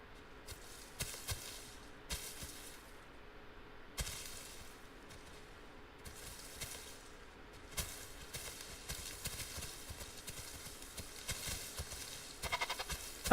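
Goat walking in The Isle survival game, a steady series of light hoof clip-clops with sharper louder steps at intervals, moderately close over a soft ambient bed.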